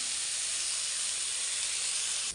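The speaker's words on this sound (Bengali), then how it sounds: "এগুলো এখন একটু তেল দিয়ে ভেজে নেব হলুদ লবণ দিয়ে" Pumpkin seeds frying in oil with turmeric and salt in a pan, a steady loud hiss and sizzle that holds evenly throughout with no talk.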